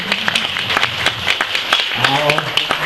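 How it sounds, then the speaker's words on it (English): An audience at a live show at the Stockmen's Hall of Fame claps in a brisk run of sharp, fairly close hand claps, with people talking over it. "They're clapping already, we like the clapping."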